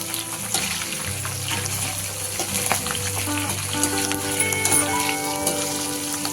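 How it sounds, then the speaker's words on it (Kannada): Curry leaves and green chillies frying in hot oil in a pan, a steady dense sizzle with faint crackles and light stirring, continuous and close, no talking. "ಈಗ ಇದಕ್ಕೆ ಕರಿಬೇವಿನ ಸೊಪ್ಪು ಹಾಕೊಳ್ತಾ ಇದ್ದೀನಿ."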